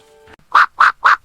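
Three loud, close cartoon duck quacks in quick even succession, following a brief tone at the start.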